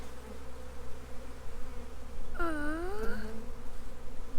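Honey bees buzzing during a spring backyard beehive inspection, a steady low droning hum throughout, with a brief higher whine rising over it midway.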